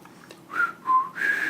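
A person whistles a short eerie melodic phrase imitating the whistle motif of a horror film score, three sustained notes rising and falling, close and clear with no talking.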